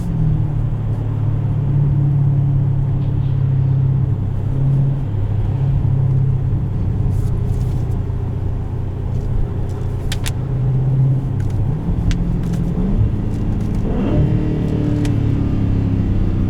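A 2017 Dodge Challenger T/A with the 392 V8 and automatic transmission pulls hard in third gear, a loud steady engine roar heard from inside the car, rising in pitch near the end.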